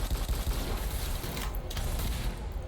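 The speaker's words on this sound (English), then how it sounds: "Oh, that's the SMG." SMG gunfire in a video game, heard as a continuous rapid rattle of fairly distant, moderately loud shots with dense noise throughout.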